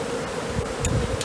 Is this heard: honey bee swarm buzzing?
yes